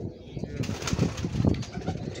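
Pigeons from a Pipplan-wale line coo in repeated low throaty pulses at close range, while someone talks over them.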